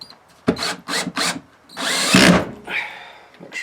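Bursts from a power drill driving small screws into a PRS-style electric guitar body, several short whirring runs followed by a longer sustained drive, close and fairly loud with brief pauses between.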